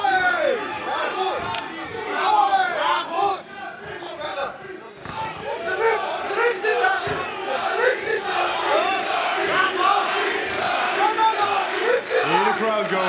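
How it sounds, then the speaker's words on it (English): A loud arena crowd roars and cheers at a Glory kickboxing fight in Charleroi, shouting voices rising and falling continuously with excited yells, while commentators talk over the noise. "Hear the crowd going."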